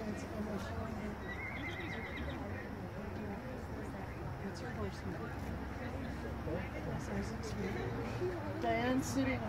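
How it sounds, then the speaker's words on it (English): A horse canters in an APHA horse show arena. Rhythmic hoofbeats and a whinny sound at moderate distance beneath ongoing talk from people nearby. "Show us a canter, please."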